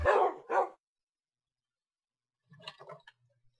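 Two quick dog barks from Minecraft ring out close and clear at the start, then after a long silence a few soft, brief game sounds follow.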